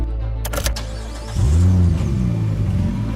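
A green Dodge car's engine rumbles and rises in pitch as it pulls away and accelerates, following a few brief clunks at the start, loud and close with no voices.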